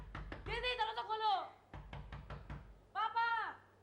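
Someone knocks on a closed door at home, several sharp raps in short bursts, close by, alternating with loud shouting from a voice on the same side.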